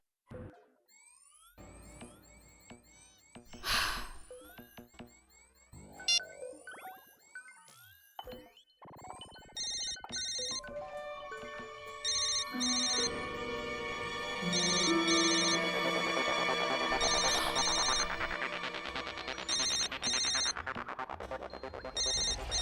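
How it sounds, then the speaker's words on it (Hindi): A mobile phone rings with an electronic ringtone in repeating bursts, starting sparse and faint, then playing louder and steadier through the latter half. "फोन तो यहीं कहीं बज रहा है।"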